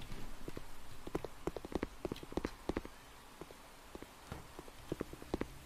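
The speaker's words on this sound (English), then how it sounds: "I can hear her footsteps." Footsteps thud in a horror video game, Eggs for Bart, a run of soft irregular hard-soled steps that cluster, pause and resume, muffled and moderately distant, with no talking.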